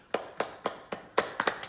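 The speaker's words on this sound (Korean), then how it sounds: "오, 야, 박수." Several sharp, evenly spaced hand claps, about eight in under two seconds, ring out close by in a quiet room during a hands-on knee pain training session, with the last few coming quicker and slightly uneven.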